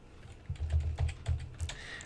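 Fast typing on a computer keyboard while entering a formula in Excel, a close run of about eight quick key clacks with a slightly louder tap near the end.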